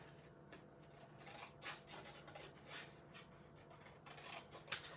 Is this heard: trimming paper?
yes